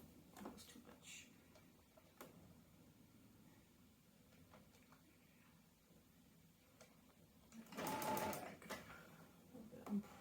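A sewing machine stitching a quilted Riley Blake door banner, a short quiet run of stitches with a louder burst of whirring near the end, faint and close.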